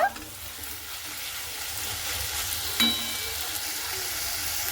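Elephant foot yam stalks fry in a pan over a gas flame, giving a steady, even sizzle with one brief scrape or clink of stirring partway through.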